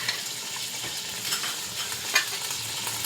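Tomatoes tipped into a hot pot of vegetable biryani sizzle and fry steadily, with light stirring scrapes and a brief clatter near the end; no one speaks.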